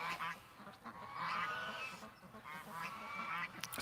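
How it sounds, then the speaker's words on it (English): Ducks in a pen honk and quack in short repeated calls over a few seconds, fairly faint and somewhat distant, with no talking. "Oh, the ducks are going around the pen."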